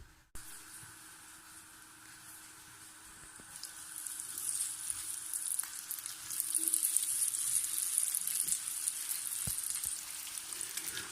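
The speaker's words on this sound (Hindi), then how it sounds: "हमारे कच्चे कीमे के कबाब अच्छे से फ्राई हो रहे हैं।" Raw keema kebabs frying in a few spoons of oil in a pan, a quiet sizzle that swells into a busier, spitting crackle over several seconds, close up with occasional light taps and no speech.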